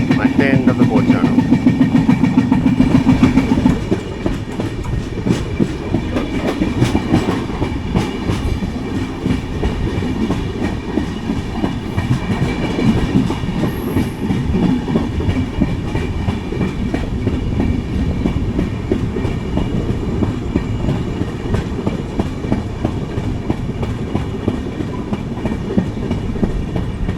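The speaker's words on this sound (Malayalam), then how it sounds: "ഇപ്പോഴത്തെ സൈഡിലെ വീലിന് നല്ല ഫ്ലാറ്റ് ഇല്ല കേട്ടില്ലേ" A Kochuveli Humsafar Express coach rolls along on a wheel with a flat spot, giving a loud, continuous rhythmic clatter and rumble heard from inside the train, with a voice talking briefly at the start.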